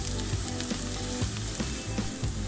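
Garlic and onions fry loudly in a pan with a dense, constant sizzle. Periodic stirring scrapes punctuate it up close, with no talking.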